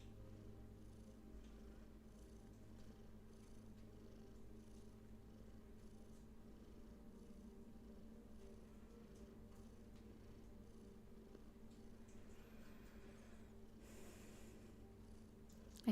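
A cat purrs softly and steadily up close, a low rhythmic rumble with faint breathing, quiet and alone with no talking.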